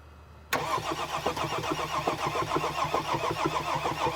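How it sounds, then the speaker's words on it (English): A Mercedes GL350 engine is cranked by the starter without catching, a close, steady rhythmic churning that begins abruptly after a short quiet moment and continues evenly to the end. "Go ahead, crank it."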